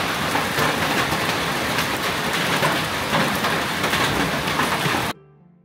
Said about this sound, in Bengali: ঝর্ণা থেকে আসার পর বৃষ্টি শুরু হয়।